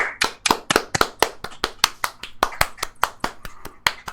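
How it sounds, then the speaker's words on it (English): Around twenty brisk hand claps, close by and steady, with a slightly uneven rhythm like a few people clapping together, no voices over them. "Yo, clap your hands, man."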